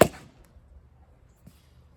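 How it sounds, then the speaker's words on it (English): A single sharp crack sounds as a big Easton black 3330 bat strikes a soft baseball off a tee outdoors, loud and close at the very start, then quiet apart from a faint later tap. "Alright, I'm going to try hitting this soft baseball now."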